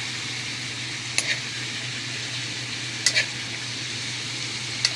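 Food with chili, garlic and onion sautés in a pan, giving a steady, quiet sizzle with a few sharp scrapes of a utensil against the pan spaced a couple of seconds apart.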